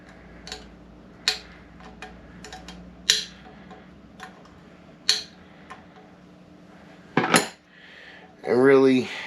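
Small metallic clicks and ticks of a wrench working a little nut loose on a subwoofer's push terminals during a recone. Sparse, close, isolated taps with a louder scrape near the end.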